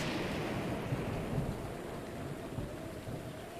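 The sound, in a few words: rain and thunder in video game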